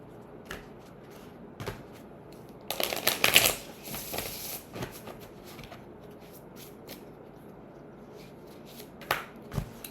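Tarot cards shuffled by hand in a quiet room, with a dense burst of papery riffling in the middle and scattered soft taps and flicks before and after.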